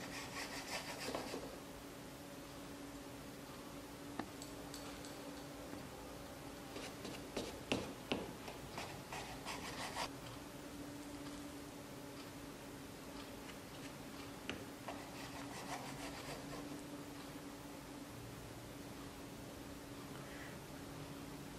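A knife saws and rubs through a freshly baked dried-fruit cake, with repeated scraping strokes and a few sharper ticks against the plate or board, steady and close with no voices.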